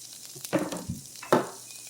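Banana peppers hit a hot pan already cooking onions and garlic, bursting into two loud sizzling crackles with softer frying hiss between them.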